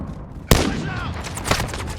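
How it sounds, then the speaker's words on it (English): Gunfire in Call of Duty: Modern Warfare during a hardpoint match: one sharp, loud shot bursts out, followed by a rolling crackle of further rounds, with a faint voice in the background. "I'm taking fire."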